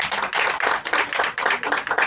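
Audience clapping at a media launch event, a dense steady patter of many hands filling the whole stretch, close and fairly loud with no talk over it.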